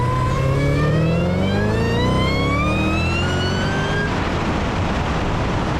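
A supercharged LT1/LT4 car accelerating hard through one gear under light boost, the engine and blower whine rising steadily in pitch, loud and close, then cutting off abruptly at the shift with the road roar carrying on.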